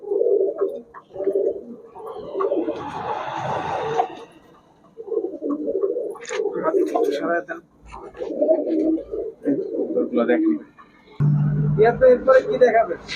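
Highflyer pigeons coo in low, throaty bursts at a pigeon shop beside someone talking steadily, with occasional wing flutters and small chirps in between.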